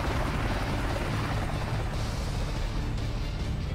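A helicopter in the video game GTA IV roars with a loud, steady rotor and engine drone, heard close and alone throughout.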